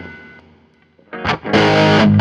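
An electric guitar runs through a Klon-clone overdrive pedal with its fat switch on, a quiet fading note followed by loud, thick, distorted chords that are struck and ring out.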